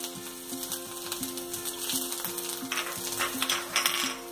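Ginger hitting hot oil in a large pan gives a steady close sizzle, with light metallic clinks of a utensil against the pan and a faint rhythmic stirring.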